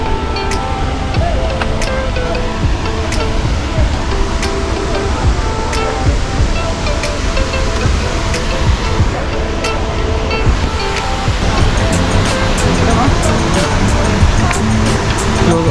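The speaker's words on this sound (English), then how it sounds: "So this is the main Athirapalli waterfall." Athirapalli waterfall roars with a loud, continuous rush of falling water heard up close, broadband and unbroken, with some wind buffeting the microphone and no clear speech.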